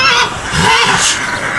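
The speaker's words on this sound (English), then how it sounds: "That is a horse." A huge, excited stallion neighs loudly and close by, a rough, breathy whinny filling the short moment with no talk.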